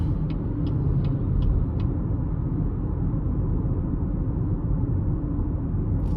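A 2022 GMC Terrain AT4's engine pulls steadily under throttle, a continuous low rumble with road and cabin noise, with a few faint high ticks early on.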